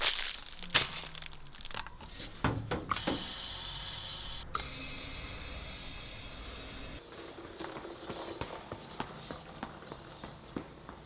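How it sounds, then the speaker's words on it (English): Protective film is peeled off a new 27 hp Royal Enfield Himalayan motorcycle, giving a string of close crackling, crinkling tears and sharp plasticky snaps over several seconds. "Satisfying peels"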